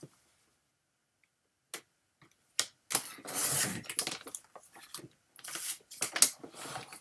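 Scissors cutting a paper bag, a few sparse snips at first, then a quick run of close, crisp crinkly cuts and rustles of the paper, alone without talk.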